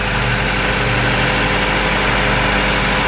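A Toyota Great Corolla engine idles high at about 1200 rpm while its radiator fan spins, a loud, close, steady drone with an even hum and no breaks.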